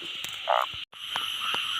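A frog croaks during rain at night, a short, loud throaty call standing out against a steady hiss of rainfall and insect noise.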